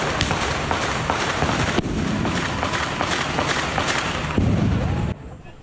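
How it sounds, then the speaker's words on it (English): Fourth of July fireworks boom and crackle in rapid, overlapping bursts in the night sky, a dense barrage of distant explosions that rumbles on before cutting off abruptly. "As the booms of fireworks filled the night sky on the 4th of July"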